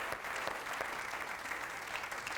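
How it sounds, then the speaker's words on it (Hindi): Studio audience on a Hindi game show applauding contestant number one, a steady dense wash of clapping at moderate level with no voices over it. "नंबर 1 के लिए जोरदार तालियां।"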